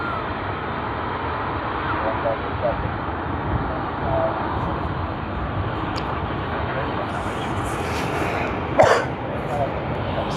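One short, close cough cuts through steady airport background rumble near the end, after a faint throat noise earlier.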